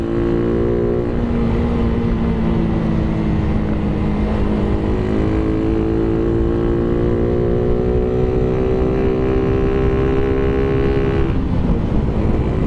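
A Yamaha Raider 150 Gen1 motorcycle with a 51 mm big elbow exhaust and a New Breed canister drones steadily and loudly on a test ride. Its engine pitch climbs gradually as it pulls, with no talking.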